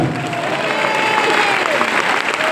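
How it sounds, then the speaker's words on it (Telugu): A congregation at a church service claps loudly and steadily in a dense, continuous roar of hands that holds for the whole stretch, with a voice and faint tones under it. "కొట్టు చప్పట్లు గట్టిగా"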